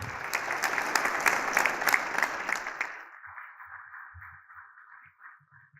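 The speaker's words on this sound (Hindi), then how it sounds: "बहुत सारी तालियां नकवी साहब के लिए" Audience claps for an honoree at a Republic Day mushaira poetry ceremony, with dense lively applause for about three seconds that stops abruptly, leaving a faint lingering hum and a few soft knocks.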